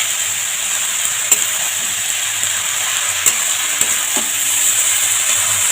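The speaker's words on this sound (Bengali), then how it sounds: "এবার লাউটা একটু ভাজা ভাজা করবো।" Bottle gourd frying in a pan with salt and a little turmeric, giving a loud, continuous hiss of oil with a few faint clinks of a spoon.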